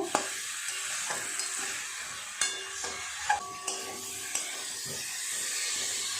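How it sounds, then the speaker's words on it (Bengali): Elephant foot yam and potato sautéing with spices in oil: a steady sizzle with sharp clinks and scrapes of a spatula against the pan at irregular intervals, close and alone. "ভেজে রাখা ওলা আলু মশলার সঙ্গে ও সবজিগুলো একটু ভালো করে কষিয়ে নেব"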